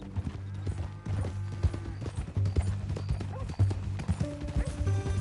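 A horse's hooves clip-clop in a steady walking rhythm in the video game Red Dead Redemption 2, close by and mixed under characters talking.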